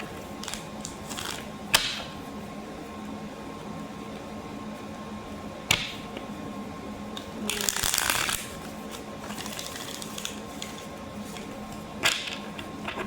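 Tarot cards being handled and shuffled at close range, quiet rustling with a few sharp snaps and one longer riffling burst in the middle, no talking.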